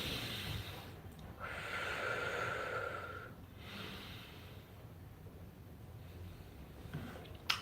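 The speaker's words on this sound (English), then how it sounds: "Inhale, exhale, deep breaths." Slow, deep breaths drawn in and let out during a calming moment, a long airy inhale swelling then easing, followed by quieter exhales, close and alone with no talking.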